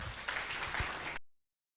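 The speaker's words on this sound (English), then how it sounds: "Let us give him a round of applause." Audience applause greeting a lecturer, Dr. Filomeno Aguilar Jr., at a formal talk, heard as a short, moderately loud burst of dense clapping that cuts off abruptly after about a second.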